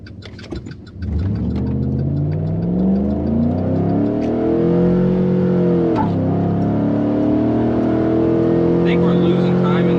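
A truck with a 5.3L engine, tow mode on and traction control off, launches and accelerates through rising and falling gear pulls in a quarter-mile run, loud and close inside the cab, with a voice speaking over it.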